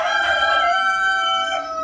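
A rooster lets out a single loud, close crow, a bright, drawn-out call that rises and then trails off, with no other sound around it.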